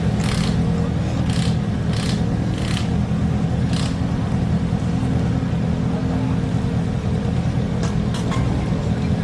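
Drift cars circling the wet D1GP track at Sugo, their engines a steady distant roar with occasional revving bursts, under a constant wash of crowd and ambient noise.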